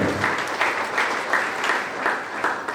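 A congregation in a hall applauds steadily, a dense wash of clapping that holds evenly throughout with no pauses and no talk over it.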